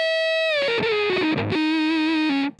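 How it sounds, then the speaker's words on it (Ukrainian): Electric guitar through a homemade Fuzz Face fuzz pedal into a Vox amp, a few fuzzy, sustained single notes stepping downward, bright and buzzy, with no talking. "Це, класичний Fuzz Face"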